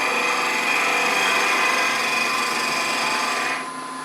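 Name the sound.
wood turning a cedar box on a lathe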